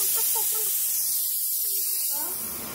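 A steady, bright steam hiss from a pressure cooker cooking dal runs continuously under a brief stretch of talking, fading slightly at the end.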